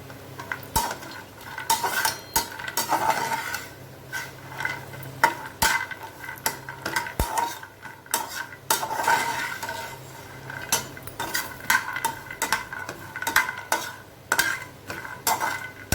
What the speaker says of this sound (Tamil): பாதாமையும் வறுத்து எடுத்துக்கலாம்